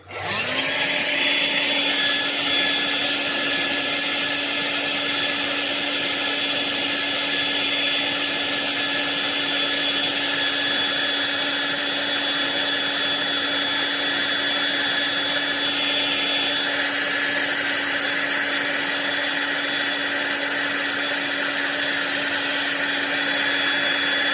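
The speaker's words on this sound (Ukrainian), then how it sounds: "Тепер включаємо фен, починаю нагрівати і будемо дивитися, що на екрані." Hair dryer switched on to heat a scintillation gamma detector, a loud continuous whine with a steady hum running unchanged for over twenty seconds, no talk.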